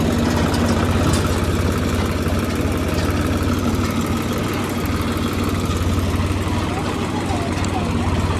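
Tractor engine running steadily while riding toward a village, a constant low rumbling drone with vibration throughout, loud and close, with no clear talk over it.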